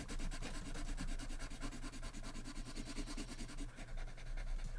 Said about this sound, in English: we all need to listen to the sound of the silver, and then when I move to gold, let's see if it does the sound